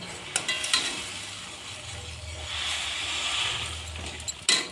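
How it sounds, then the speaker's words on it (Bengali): Fried mihidana stirred into sugar syrup in a pan over low flame for motichoor laddu, giving a soft bubbling simmer and gentle sticky stirring with a few sharp spoon taps against the pan at start and end; close, no talk. "আর খুব ভালোভাবে রসের সাথে মিশিয়ে দেব।"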